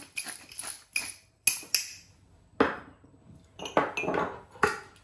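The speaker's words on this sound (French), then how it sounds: "je vais couper les légumes" Vegetables for a Camargue rice salad with tuna being chopped on a board, with sharp knife knocks coming in irregular bursts and some clinks between them, heard close with no voices.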